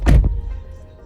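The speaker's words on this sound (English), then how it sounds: "Close the door." A house door shuts with one solid, close thunk and then falls quiet.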